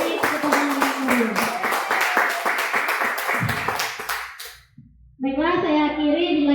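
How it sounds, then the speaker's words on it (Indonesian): Audience applause for a teacher candidate's presentation on positive school culture, a dense burst of many hands clapping that fades out, then a short gap before children's voices and chatter take over. "Beri tepuk tangan yang meriah."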